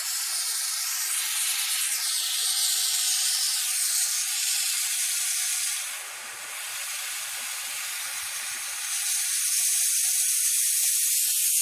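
Roaring hiss of a bottled-gas torch flame heating metal for heat anodizing, steady and close, dipping briefly midway before returning at full strength.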